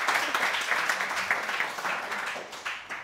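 A television game show studio audience claps in a lively, slightly uneven burst that stays fairly loud throughout and tapers a little near the end.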